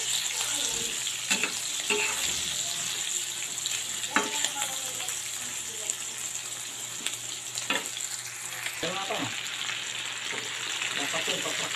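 Pinakbet vegetables frying in a pan, a continuous close sizzle broken by repeated scraping stirs and utensil knocks over about twelve seconds, with no talk.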